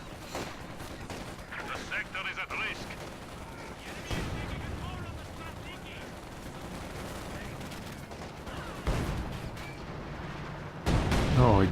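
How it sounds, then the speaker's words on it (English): A mine detonates during a Company of Heroes 2 match, rumbling amid continuous battlefield gunfire and artillery, with a loud burst near the end and a voice talking over the din. "he detonates that mine"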